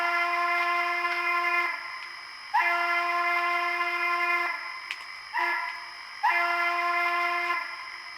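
A multi-tone steam-style whistle on a Bachmann Spectrum HO scale J class 611 model locomotive blows four times, each blast held about a second or more with short gaps between, clear and fairly close.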